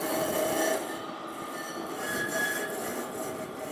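Metallic wheel squeal rings out as a light-rail tram runs through the curve at the end of a station platform without stopping, a steady high screech over rolling rumble, with no talk.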